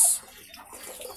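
Tap water runs briefly at a home in the province before dishes are washed, a short soft splashing rush that starts louder and fades to a low trickle.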